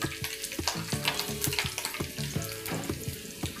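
Pieces of garlic fry and sizzle in a pan, a steady close crackle with small pops and spatters, with no talking over it.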